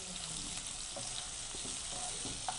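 Homemade rice-flour noodles frying in a pan, a continuous quiet sizzle with light stirring taps and scrapes at intervals, no voices.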